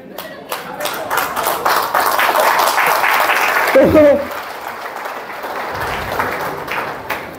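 An audience claps steadily through a humorous spoken performance, a dense wash of applause that holds for several seconds and then eases off, with a voice talking over it.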